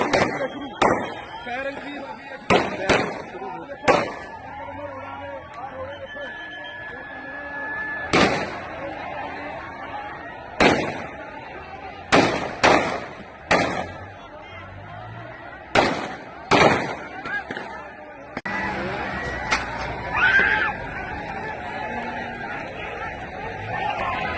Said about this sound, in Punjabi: ਆ ਫਾਇਰਿੰਗ ਚੱਲ ਪਈ ਇਸ ਟਾਈਮ